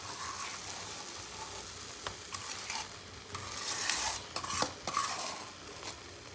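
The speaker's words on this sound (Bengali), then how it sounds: "এবার এটাকে 3-4 মিনিট একটুখানি ভালো করে একটু ভেজে নিতে হবে।" Amla and jaggery frying in a pan while a spoon stirs steadily, scraping and clinking against the metal over a soft, continuous sizzle.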